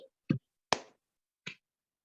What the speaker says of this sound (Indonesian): Tepuk 1 kali.